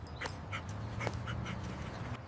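A lost dog whimpers softly in short, faint whines and breathy pants, heard alone against quiet background hiss.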